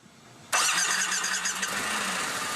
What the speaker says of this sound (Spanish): We go into a lot of trouble to protect the sound of the motorcycle because Harley has a legendary sound.